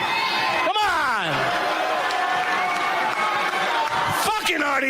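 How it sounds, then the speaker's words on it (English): A studio audience at a radio show boos loudly and continuously, a dense crowd roar with whoops and shouting rising over it. "The booing already."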